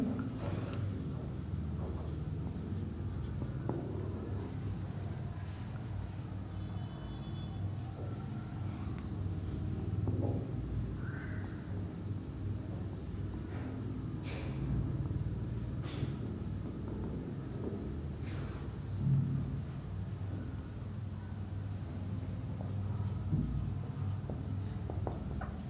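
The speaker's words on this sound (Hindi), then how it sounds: "तो तक मैं कोई और क्वेश्चन लिख रहा हूं" Chalk or marker scratches across a classroom board as a reasoning question is written out, faint scraping strokes in irregular bursts over a low room hum, with no talking.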